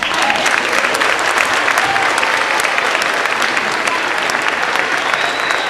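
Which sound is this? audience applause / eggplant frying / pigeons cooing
audience applause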